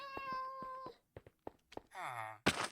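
A cat in the Minecraft Cobblemon game gives a series of meows and a drawn-out wail, followed by a short thumping noise and a sigh-like sound, clear and close.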